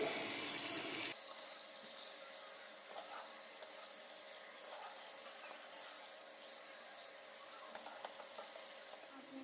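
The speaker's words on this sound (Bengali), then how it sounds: "চিকেনটা দিয়ে হাই ফ্লেমে মিনিট পাঁচ সাতেক মতো নাড়াচাড়া করব যতক্ষণ না চিকেনের কালারটা চেঞ্জ হয়ে আসছে" Chicken stir-frying over a high flame in a pan for garlic curry gives a steady, close sizzle with scattered stirring scrapes, preceded by a brief louder burst at the start.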